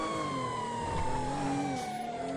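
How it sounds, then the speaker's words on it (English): A police car siren in the FiveM driving game wails steadily in a slow falling sweep, loud and close over the rumble of the vehicle, with no talking. "We're gonna flash our sirens here, let them know we're coming through."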